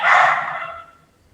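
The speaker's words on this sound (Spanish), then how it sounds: "mis perros como que se ponen muy locos" A single loud dog bark rings out close by, then fades away over about a second with no other sounds.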